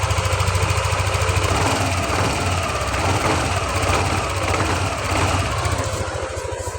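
A Yamaha NMAX scooter, recently repaired at the fuel pump, idles steadily up close with a rapid, slightly rough mechanical chatter that holds continuously.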